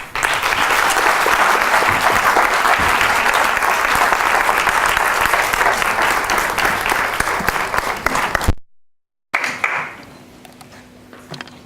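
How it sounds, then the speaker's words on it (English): Loud, sustained applause from an audience at a school leadership forum's end-of-year event in Cape Town, dense steady clapping for about eight seconds, a brief gap, then quieter fading claps. "I think we need to give Dr. Ramphele one big round of applause."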